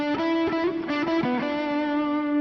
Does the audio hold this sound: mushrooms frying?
no